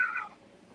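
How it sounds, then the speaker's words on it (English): A house cat lets out a brief, soft meow that fades quickly, faint and nearby, with a tiny second chirp at the end. "I'm hoping that's a cat"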